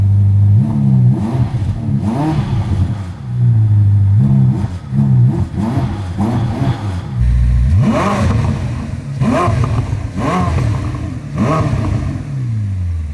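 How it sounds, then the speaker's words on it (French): A 1000 hp Ferrari hybrid supercar's petrol engine fires up and revs hard, with repeated loud rising and falling blips and roars close by, and brief pauses between bursts. "On va activer le moteur thermique"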